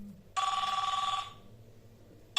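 A telephone bell rings in one sustained, loud trilling burst of about a second, then goes quiet, with the start of another ring at the very end.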